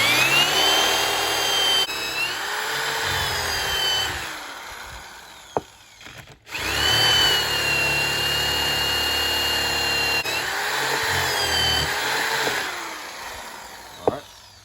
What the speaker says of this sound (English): We got that hole drilled.